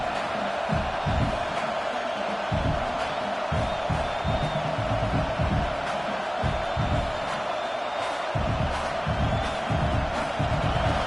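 A stadium crowd in the College Football 26 video game roars steadily on a fourth down, a dense, continuous wash of cheering and noise with scattered thumps, with no pause throughout.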